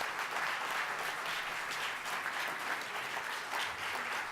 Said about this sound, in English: So can we have a round of applause for Trudy and